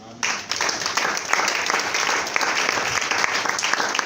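A church congregation bursts into loud, sustained applause during a sermon, dense clapping from many hands that fills the room steadily from start to finish.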